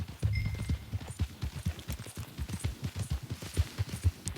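Horse hooves in Red Dead Redemption 2 as a rider heads to the Blackwater sawmill, a rapid rhythmic clip-clop of galloping beats, close and steady throughout.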